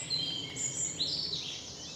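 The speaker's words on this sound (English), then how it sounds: "Fantastic bird song in here now" Birdsong in mixed woodland on a country walk, several high chirps and short warbling phrases at moderate distance over a quiet background.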